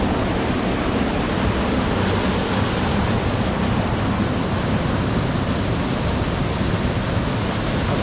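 Rushing creek water at a Washington waterfall over bedrock, a loud, continuous broadband roar that stays steady and close throughout with no talking.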